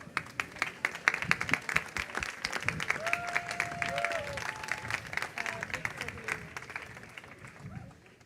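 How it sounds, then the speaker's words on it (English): Applause and some cheering from an audience at an award ceremony for climate education projects, moderately distant clapping mixed with crowd murmur, with a brief tonal sound partway through before it thins out near the end. "Again, a big applause to all these projects, please."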